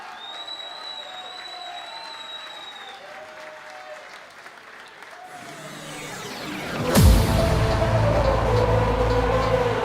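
A darts audience at a final-night tournament breaks into sustained applause, rising into a louder swell of clapping and cheering partway through.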